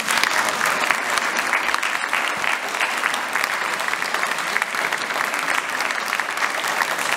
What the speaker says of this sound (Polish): Poproszę o gorące brawa.